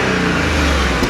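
A 2013-era Audi 8R SQ5 3.0T revs with its exhaust valve closed, giving a loud, steady, muffled engine drone close by with a small pop near the end.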